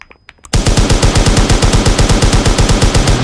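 Rapid automatic gunfire in a first-person shooter video game, a loud sustained burst of evenly spaced shots after a few brief clicks at the start, with no talking.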